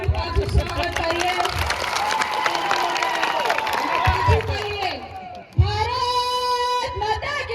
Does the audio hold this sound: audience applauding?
yes